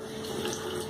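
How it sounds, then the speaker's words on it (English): Tap water runs steadily into a sink while a 22 mm shaving brush is wetted before a head shave, a continuous close hiss with no talking. "Get a little water in there."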